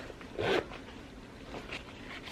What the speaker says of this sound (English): It has a zipper opening inside.